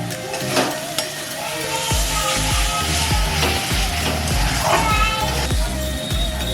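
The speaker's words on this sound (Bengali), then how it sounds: "এবার আমি মশলাটাকে ভালো করে নেড়ে নেড়ে কষিয়ে নেব" Spice masala sizzles in oil in a pan for a mushroom masala while it is stirred and scraped hard, with repeated spatula knocks over a constant frying hiss, all under loud background music.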